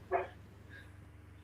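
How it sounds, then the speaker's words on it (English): A dog gives a single short bark near the start, fairly close but not loud, then the rest is quiet room tone with a faint second sound. "I missed the name you said because the dog was barking."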